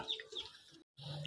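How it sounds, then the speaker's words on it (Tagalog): Ducks calling in short, scattered bursts close by while feeding, with a brief silent gap in the middle before the calls resume. "Kumakain na mga kwak-kwak."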